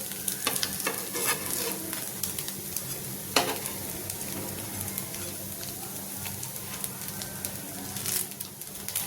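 A poha-based breakfast snack roasts in a pan with a continuous close sizzle, broken by scraping stir strokes and a sharp clatter near the middle, with faint bird calls in the background.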